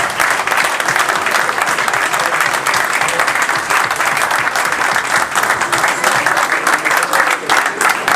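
Audience applause after a rugby club match in December, thanking partners and volunteers, a dense, steady wash of many hands clapping at close range that holds evenly for the whole stretch with no voices on top.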